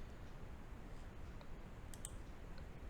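A couple of sharp, faint mouse clicks while working in CREO Parametric CAD software, set over a steady background hiss with no talking.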